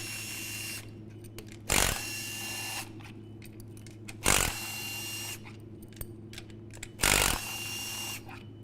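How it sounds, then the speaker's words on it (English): Intake manifold bolts being loosened with a ratchet and hand tools on a car engine, light ticking clicks and metallic clinks with three short louder bursts, under a constant low hum. "All right, I'll start taking bolts out."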